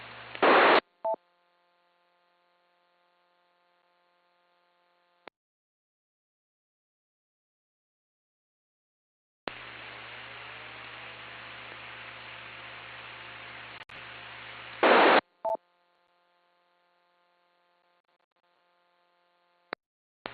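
Bursts of steady static hiss with a low hum come and go over a 2-meter amateur radio repeater net, one long stretch in the middle and shorter blips around it, with no voice.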